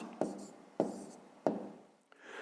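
Pen strokes write out a quotient while working through a fifth-grade math exercise: three distinct scratchy marks close by, each sharp at the start and trailing off, followed by a brief softer touch.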